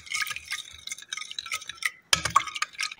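A spoon scrapes and clinks in a bowl, stirring sugar, salt and refined oil into dough for baked cabbage pirozhki, in short, repeated close strokes with a brief pause before it resumes.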